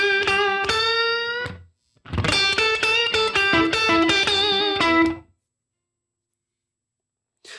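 Slow 12/8 blues lick in G on an electric guitar through a 1966 Vibrolux amp, a short phrase, a brief pause, then a longer run of bright picked notes that ends abruptly into silence.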